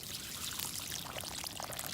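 Water pours in a steady broad rush with a faint splashing trickle, continuous and fairly quiet, with no voices.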